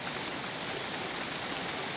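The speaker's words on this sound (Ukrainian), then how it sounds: "Ну, пускається дощ." Steady, dense rain pours down during a December thunderstorm in the south, a continuous even hiss with no pauses.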